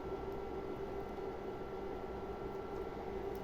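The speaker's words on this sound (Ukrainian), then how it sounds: "все смажиться." An egg roll cooks in a frying pan for breakfast, giving a steady, soft sizzling hiss that runs unbroken throughout, with no voices.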